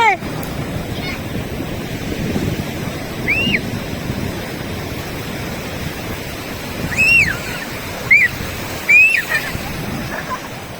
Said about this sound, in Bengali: ঢেউ আসছে মানে বড় ঢেউ আসছে